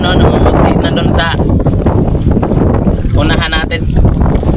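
Strong wind at sea buffets the microphone over choppy water with whitecapping waves and boat rumble, loud and continuous, with a voice talking throughout.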